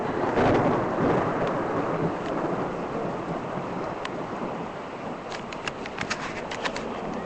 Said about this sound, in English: Yep, that's some rain in there.